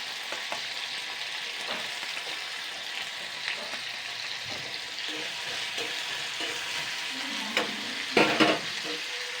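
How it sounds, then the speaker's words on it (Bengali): Peeled potatoes frying in hot oil in a wok, a steady close sizzle with occasional stirring scrapes and clinks, louder bursts near the end, no talk. "আলুগুলোকে আগে আমি ঠিক আলু ভাজার মতন করে ভেজে নেব।"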